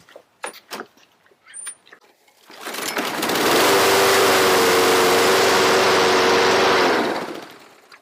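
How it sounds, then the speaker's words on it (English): A Toro Personal Pace lawn mower with a new carburetor and spark plug fires up on a hot start after mowing, settling into a loud, steady close engine drone for several seconds before cutting off. "Let's see if it'll do the hot start now"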